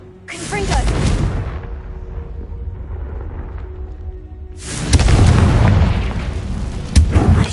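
A Confringo blasting curse in Hogwarts Legacy sets off a loud booming blast with a whoosh, then a lower rumbling lull, followed by a second heavy burst of crackling debris and a final sharp thump.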